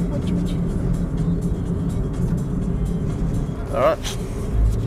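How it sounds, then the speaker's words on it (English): A car driving through Philippine city traffic, with steady engine and road rumble and passing vehicles around it; a voice speaks briefly over the continuous drone. "Another exciting day of Philippine city driving."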